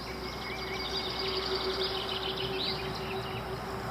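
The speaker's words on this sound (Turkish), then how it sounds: "Öyle güzel yerler ki, öyle güzel kuş sesleri var ki." Birds sing in a forest picnic area, with faint high chirps and trills repeating over steady ambient background noise and no voices.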